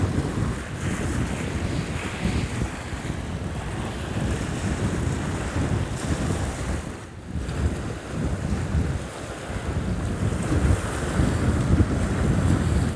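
Strong, steady wind roars across high, windswept Bodmin Moor near the shoreline of Crowdy Reservoir, buffeting the microphone continuously for the whole stretch with only a brief dip midway and no voices.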